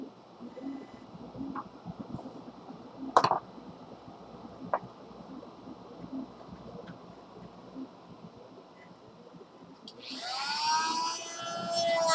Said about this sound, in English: this is a Dremel Multi-Pro